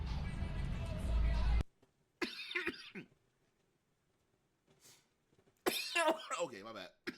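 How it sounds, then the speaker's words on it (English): A person coughs and clears their throat a few times between short bursts of talking, with quiet pauses in between. "Sorry for coughing."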